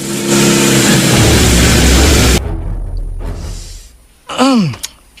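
A motorcycle engine revs loud and steady for a couple of seconds, then drops away, followed by a brief rising-and-falling tonal whoop near the end.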